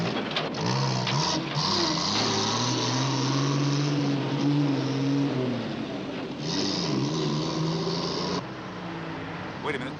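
A truck engine runs and shifts through rising and falling pitch as it drives, a steady motor drone with a harsh buzzing edge, heard close and continuous with brief changes in tone.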